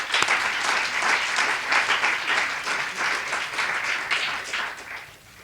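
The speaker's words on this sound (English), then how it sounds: "A big round of applause to all of the panelists and moderators." Audience applause at a food policy summit in Washington, DC, a steady dense round of clapping from a sizable crowd that holds for several seconds and then begins to taper off.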